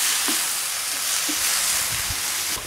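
Salmon with other ingredients frying in a wok, a steady loud hiss and sizzle that holds throughout, with a few soft clinks and stirring knocks, no voices.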